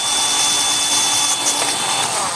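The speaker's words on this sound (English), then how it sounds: "You have to drill many more holes all along the sides and the neck." A power drill whines continuously at high speed, a steady buzzing grind with slight shifts in pitch as it bites into a plastic soda bottle.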